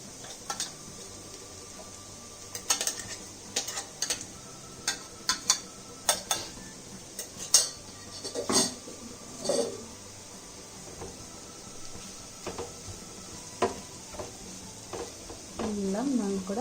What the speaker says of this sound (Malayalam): എല്ലാം നമുക്കിവിടെ നന്നായിട്ട് യോജിപ്പിച്ച് കൊടുക്കണം